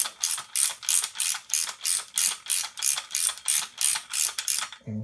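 A ratchet turns down a bolt on a RockShox 35 Silver TK bike suspension fork: a steady series of about a dozen loud, evenly spaced clicking strokes, close by, with no talk.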